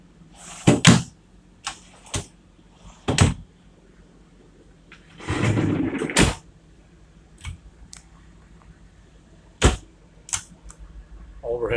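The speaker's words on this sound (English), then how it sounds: "This section of the cabinet pulls out." A cabinet section in a 2017 Insignia 44B slides out with a short rumbling glide, surrounded by scattered clicks, knocks and taps from handling the cabinetry.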